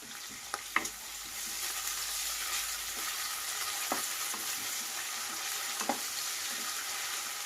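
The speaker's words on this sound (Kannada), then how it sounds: "ಸ್ವಲ್ಪ ಹಸಿ ವಾಸನೆ ಹೋಗೋ ಮಟ್ಟ ಫ್ರೈ ಮಾಡ್ತೀನಿ" Ginger garlic paste and chopped onion sizzle steadily in a hot pan, with a few sharp clicks and scrapes of stirring and no one speaking.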